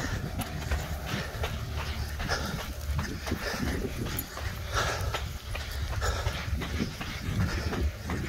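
Three dogs pant on a sandy run over soft sand, with rapid breathing mixed into heavy, continuous rustling and footfall noise that is fairly faint overall.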